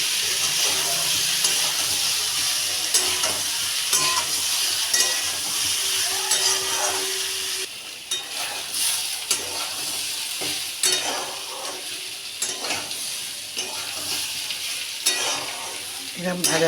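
Boiled papaya is stir-fried with salt and turmeric in a pan, giving a loud, continuous sizzle and hiss with the repeated scrape of a spatula stirring close by throughout.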